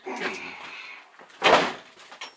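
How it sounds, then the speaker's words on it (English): A big, heavy cellar door of thick reinforced wooden boards is shifted, giving a low creak and scrape early on, then a louder thud and rumble near the middle, with a short knock at the end. "It's a big ass door."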